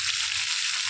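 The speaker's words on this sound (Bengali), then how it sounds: "আমার এই চিংড়ি মাছটা ভাজা হচ্ছে।" Prawns frying in a pan for a Bengali prawn curry, a steady close hiss of sizzling oil with no pauses or talk.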